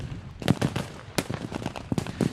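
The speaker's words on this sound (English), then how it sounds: "Signaling smoke, covering smoke, smoke from artillery going off, explosions." Artillery and explosions at a tank battle reenactment go off in a rapid, irregular series of sharp blasts and cracks, loud and close, with no talking.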